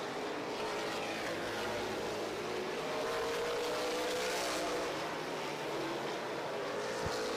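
Race cars at a June 2024 feature race run nose to tail through lapped traffic, a dense continuous engine roar with rising and falling pitch sweeps as cars pass, steady and loud with no talk.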